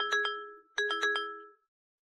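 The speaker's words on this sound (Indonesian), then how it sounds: "Telepon bunyi lagi." A telephone rings indoors in a comedy series, sounding as bright electronic tones: a pair of quick pulses, a short gap, then four more, clear and close with no talk.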